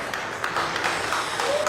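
A large crowd at a pool tournament breaks into dense, steady applause, a continuous wash of clapping at moderate distance, with a voice briefly audible underneath.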